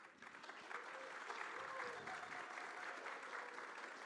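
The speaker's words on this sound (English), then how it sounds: "You got a clap, Maria" Audience at an interfaith forum applauds a panel speaker, a faint, steady wash of many hands clapping that swells after a quiet start, with a voice faintly audible underneath.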